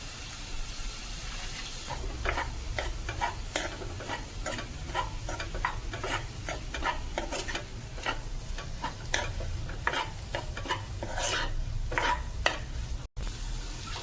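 Street-style egg rice being stir-fried with soy sauce in a pan, giving a steady sizzle broken by repeated scraping and stirring clicks from a spatula, close and continuous throughout.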